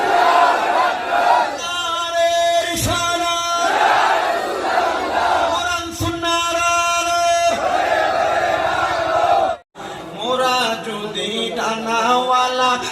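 A crowd at an Islamic gathering with a qari singing a Bengali ghazal shouts the takbir in loud unison bursts, voices swelling over a sung and amplified backdrop, then breaking off abruptly before resuming.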